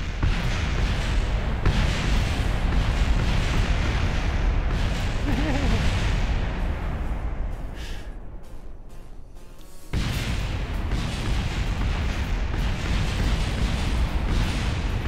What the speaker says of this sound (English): Everything's still exploding.